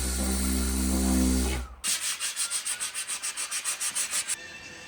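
Hand sanding of filler on the passenger-side body of an old shop truck under restoration, a steady rub giving way to a quick series of about fifteen rhythmic back-and-forth strokes, close and fairly loud.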